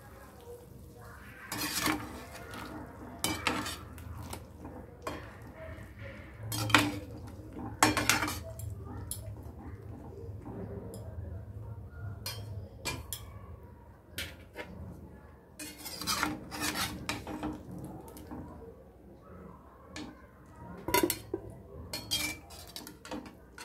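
Cooked cauliflower is lifted out of a pan with metal utensils, producing a series of irregular clanks, scrapes and clinks, loud up close and separated by short quiet gaps.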